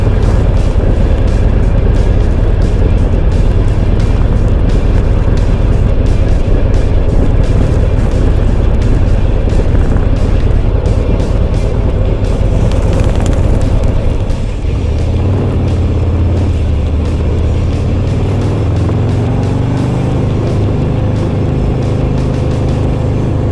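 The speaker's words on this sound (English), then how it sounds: "I'm gonna take it out. I'm gonna just rip the hell out of it now." A 2024 Harley-Davidson CVO Road Glide ST being ridden hard, its engine a loud, continuous, deep roar that holds steady for a long stretch and then settles into a slightly lower, throatier tone partway through.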